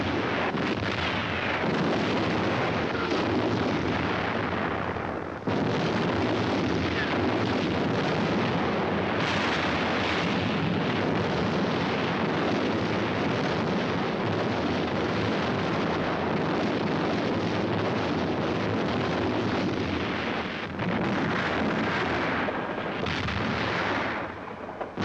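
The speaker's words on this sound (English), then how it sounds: "For days, long-range guns hurled ton after ton of high explosives into the heart of the city." Long-range guns shell the city of Leningrad with high explosives during WWII, a loud, continuous roar of blasts and rumbling fire that barely lets up, with brief dips in intensity.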